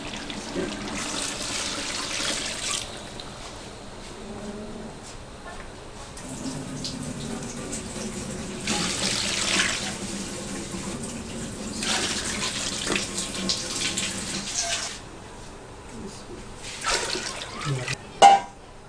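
Water runs steadily from a tap into a large pot holding 4 kg of rice for a tikka masala pulao, a continuous splashing pour with brief pauses, moderately close in a home kitchen.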